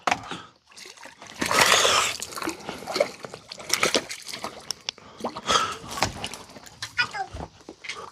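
A crucian carp thrashing and splashing in the water as it is landed at a floating fishing platform on a reservoir, loud close sloshing bursts with brief gaps between them.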